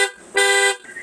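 Aftermarket horn fitted to a Bajaj Dominar 400 motorcycle sounds one loud, steady blast of about half a second, close by, with fainter tonal sound before and after.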